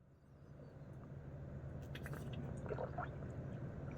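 A person drinks a glass of water, soft wet swallowing and squishy gulps surfacing faintly over a quiet background hum near the middle of the short stretch, with no talking.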